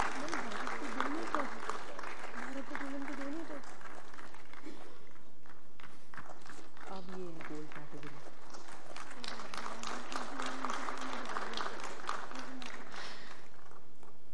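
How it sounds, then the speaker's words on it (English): Sustained crowd applause at a global petroleum and environment awards ceremony, a continuous clapping roar that runs under tonal music or voices throughout, rising again toward the end. "A thunderous round of applause, ladies and gentlemen"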